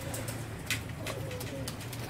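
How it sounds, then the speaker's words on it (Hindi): Lakha pigeons coo softly in a breeding setup, a low steady murmur of overlapping calls with a few brief chirps above, close and continuous for about two seconds. "ये जी लाखे कबूतर है"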